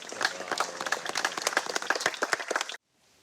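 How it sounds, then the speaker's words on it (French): A small gathering applauds a firefighter at a ceremony after a wildfire fight in Provence: a few seconds of brisk, uneven clapping from nearby hands that stops abruptly, leaving near silence. "Et je pense que tu peux être applaudi."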